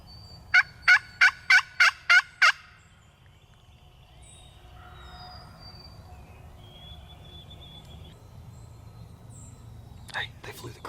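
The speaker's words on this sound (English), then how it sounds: "There's so many turkeys over there." Wild turkeys gobble in the distance, first as a rapid burst of about seven rattling calls, then more gobbles later over quiet outdoor ambience with faint hushed talk.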